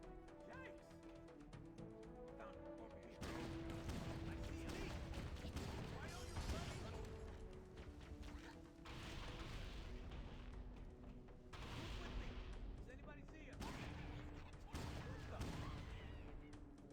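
Gunfire and explosions from the Halo video game on Heroic difficulty, with dense bursts of shots and booming blasts coming in waves, loud throughout with a few brief lulls.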